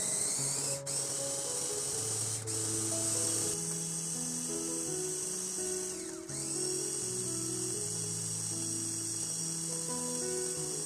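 An electric food chopper grinds chicken, carrot and onion for nuggets, a continuous whirring motor hum whose pitch steps and wavers as the blades work through the mixture, loud and close with no talk.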